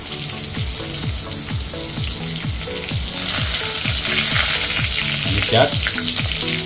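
Green chillies hit hot oil for a dhaba-style dal tadka, with coriander, onion and curry leaves nearby, and crackle loudly and steadily in the pan, the sizzle swelling stronger partway through as a voice speaks briefly over it.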